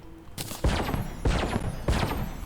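A gun in Terraria with the Spirit Mod fires three heavy, evenly spaced shots, each a loud crackling burst with a short rattling tail.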